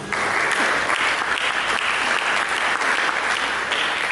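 A church congregation applauds during a sermon, with loud, dense and continuous clapping that stays steady through the whole stretch, no voices heard.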